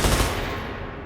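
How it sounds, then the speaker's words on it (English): Deafening gunfire rings out in a shelter, a loud, close burst of rapid automatic shots that blur into one roaring fusillade and then fade away. "their voices were quickly silenced by deafening gunfire"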